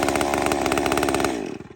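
A Stihl 201 chainsaw on choke runs at a fast idle, a loud, close, buzzing two-stroke drone that holds steady and then falls away at the end.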